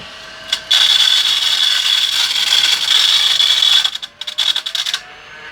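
A small USB rechargeable desktop vacuum whirs loudly with a gritty, rattling clatter of small rocks being sucked up, ending in choppy bursts as the suction sputters.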